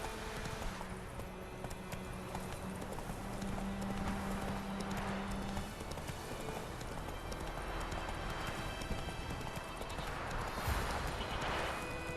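Roach the horse galloping in The Witcher 3 on Nintendo Switch, a continuous fast clip-clop of hooves with a brief whinny, mixed with steady outdoor ambience.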